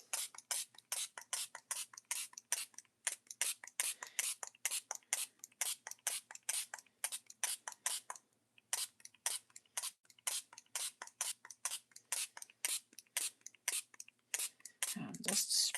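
A handheld spray bottle mists water onto watercolor paper die cuts in a long run of short, crisp hissing squirts, close and rhythmic, with one brief pause midway and a soft low bump at the end.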